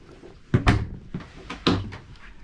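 Cabin doors to the shared head aboard a Bavaria 330 Sport sailing yacht bang and click as they are opened and shut, several close knocks and latch clatters in quick succession with no voice over them.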